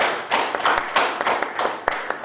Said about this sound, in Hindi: तो एक बार जोरदार तालियों से हम स्वागत करें इन